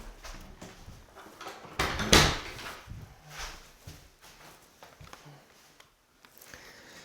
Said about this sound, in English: Let's see if we need to shut that door.